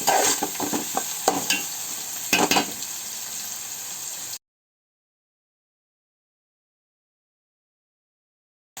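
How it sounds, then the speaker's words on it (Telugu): Brinjal frying and being stirred in a pan until brown, a close hiss and sizzle with a few spatula scrapes for about four seconds, then silence. "ఒకసారి కలిపేసుకొని కొంచెం బ్రౌన్ అయ్యే వరకు ఫ్రై చేసేసుకున్నాము."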